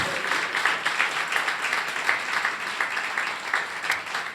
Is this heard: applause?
yes